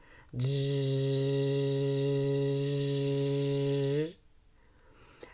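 A bumblebee's buzz is imitated as a steady, droning hum that starts abruptly, holds an even pitch for about four seconds and then cuts off, loud and alone with no other sound.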